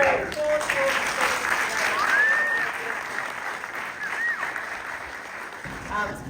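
Audience at a zookeeping conference breaking into sustained applause after the first day, dense clapping with a few whoops and squeaky vocal sounds scattered over it, fading slightly toward the end.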